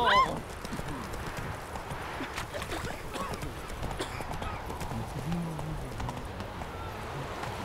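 Roach the horse gallops in The Witcher 3, a steady stream of hoof clip-clops running through the whole stretch, with occasional honking calls and other game sounds mixed in and murmuring voices underneath.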